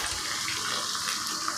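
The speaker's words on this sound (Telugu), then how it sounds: "కొద్దిగా అండి ప్యూరీ పట్టిన మిక్సీలో వాటర్ వేసి కొద్దిగా కలుపుతాను" Water pours steadily into a mixer jar holding leftover tomato puree, a continuous bright splashing rush with no talk.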